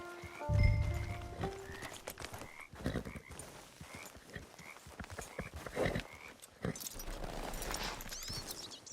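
A horse in Red Dead Redemption 2 moves along with soft clip-clop hoofbeats and an occasional snort, quiet against an evening backdrop of croaking frogs and other night creatures.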